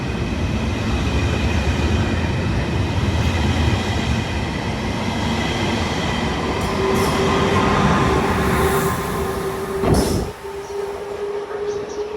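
A regional train at Venezia Mestre railway station rumbles steadily through the platform with a continuous rolling roar, followed near the end by a brief sharp clunk and a thin sustained squealing tone.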